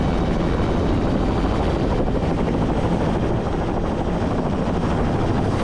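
A helicopter descends toward a helipad with a loud, continuous rotor and engine roar that stays close and steady throughout, and no one talks.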